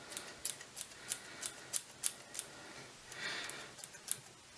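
Scissors snip repeatedly through microlon fly-tying material, a quick run of crisp, close clicks at a steady rhythm with a short rustle midway, no voices.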